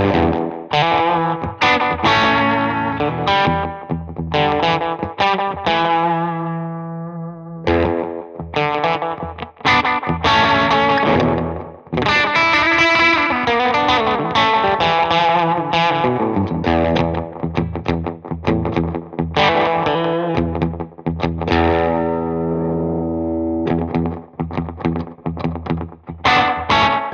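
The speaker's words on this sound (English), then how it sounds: "the diving bell from Retroactive Pedals, a digital echo machine with some decidedly analog sounds" An electric guitar plays through a Retroactive Pedals Diving Bell digital echo pedal with analog-style repeats, a continuous played passage with distorted, chorused tone and trailing echoes, steady and close with no talking.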